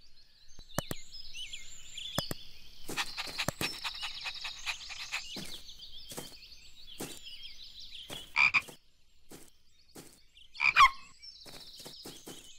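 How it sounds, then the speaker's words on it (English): A frog croaks in a series of sharp, rapid calls, some in quick bursts, loud and close against a quiet background with occasional higher chirps. "I wonder where that frog is going."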